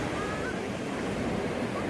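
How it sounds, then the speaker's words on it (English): Ocean surf washes steadily on the shore at Panama City, Florida, a continuous loud broadband roar close by, with wind buffeting the microphone. "So yeah, this is the ocean. We're like right on the water."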